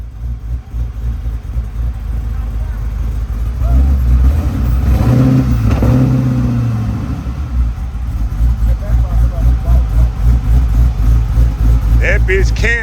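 A newly installed LS 408 stroker V8 in a 1988 box Chevy on 28-inch wheels rumbles loud and close at first startup, its choppy cammed idle swelling as the throttle is blipped, while people talk over it.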